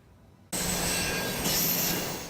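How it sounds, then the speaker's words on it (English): A Toronto subway train cuts in suddenly and loudly after a brief quiet, rumbling and rattling along the track with a thin, high wheel squeal layered on top, holding steady at close range with no voices. "amidst the rattling subway trains and operating cranes"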